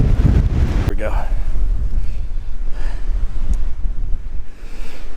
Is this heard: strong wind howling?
yes